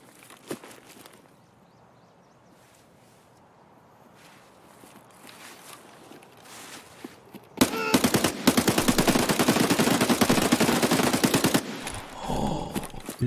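Rapid automatic gunfire in Escape From Tarkov, a loud, dense sustained burst of shots lasting several seconds after a quieter stretch of faint footsteps and ambient noise.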